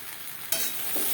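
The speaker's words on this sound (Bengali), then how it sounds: "আলু পটল হালকা করে ভাজা হয়ে গেছে" Potato and pointed gourd fry in a pan with a steady, close sizzle that jumps louder halfway through, as if stirred, then holds a bright crackling hiss with no voices.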